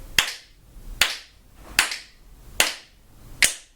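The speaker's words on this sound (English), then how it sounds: "So I count 4 and then you clap away" Five sharp, evenly spaced hand claps keeping a steady beat, each crisp and close with a brief ring after it, no voices.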